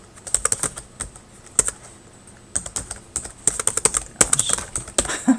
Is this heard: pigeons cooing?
no